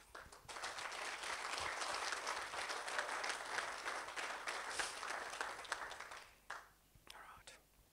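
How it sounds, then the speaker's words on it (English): Wedding guests clap together in a warm, full round of applause lasting several seconds, with murmured voices underneath, then the clapping tapers off into scattered claps and quiet. "I think it deserves a big round of applause"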